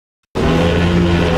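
GT3 race car in Le Mans Ultimate, engine noise from braking, heard after a moment of silence as a loud, steady, close roar with a faint tire squeal for about a second before stopping abruptly.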